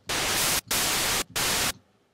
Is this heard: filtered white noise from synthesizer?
yes